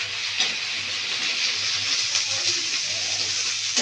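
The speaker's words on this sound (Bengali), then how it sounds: "এবার দিয়ে দিচ্ছি পেঁয়াজ কুচি। সব ভালো মতো ভেজে নেব।" Chopped onions with sliced green chillies fry in a pan for egg curry, giving a steady close sizzle and hiss with faint stirring scrapes.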